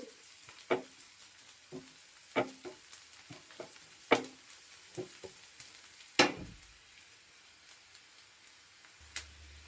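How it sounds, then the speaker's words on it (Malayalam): Mustard seeds splutter in hot coconut oil, starting a rava upma: scattered sharp pops and crackles burst irregularly over a quiet background, close by but soft overall. "കടുകിട്ട് പൊട്ടിച്ചു"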